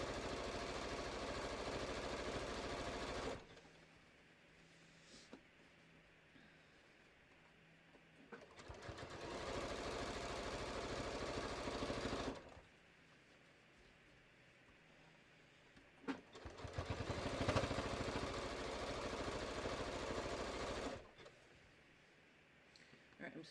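A sewing machine runs a triple zigzag stitch around a bucket hat, in three steady motor bursts of a few seconds each, separated by pauses, with someone talking between runs.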